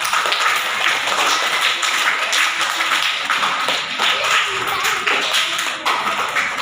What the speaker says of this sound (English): Then clap hands for Akhilesh Yadav.